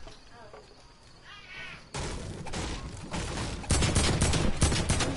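Gunfire rattles through a PS4 video game, quiet at first and then breaking into loud, dense bursts of rapid shots that grow stronger toward the end, with a voice speaking over them.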